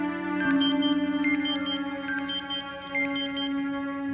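A phone ringtone plays a bright electronic melody of stepped, repeating notes over a steady tone. It is loud and continuous, with no voices.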